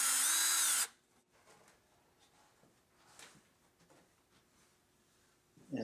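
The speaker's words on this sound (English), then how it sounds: "just take a scrap of plywood and screw it to one side" A power drill drives a screw into a scrap of plywood in one loud, short whirring burst at the start, followed by quiet handling noises and a brief restart at the end.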